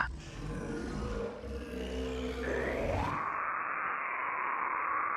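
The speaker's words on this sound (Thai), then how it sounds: "เสียงคำรามดังออกมาจากลำคอ มันไม่เหมือนเสียงสัตว์ใดในป่า" A monster's deep throaty growl, used as a sound effect in a Thai ghost story, swells into a long, sustained, echoing roar that stays loud to the end.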